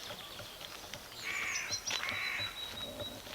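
Crows cawing near the shore at Hellens Bay, County Down, two harsh drawn-out caws in quick succession over soft background bird chatter, fairly close and clear.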